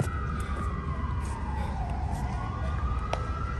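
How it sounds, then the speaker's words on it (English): An ambulance siren wails along a New York street, a wavering tone that sweeps down and back up, moderately distant over steady traffic rumble. "That's the ambulance."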